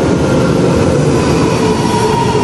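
A train arrives at a Japanese station platform, a loud, steady rumble of wheels and carriages close by, with faint squeals and no voices.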